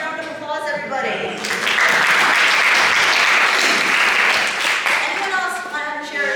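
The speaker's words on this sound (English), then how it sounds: "Give me a round of applause, everybody." An audience at a humor workshop talk breaks into applause, swelling to a dense, loud clatter mid-way and then tapering off as a voice begins to speak.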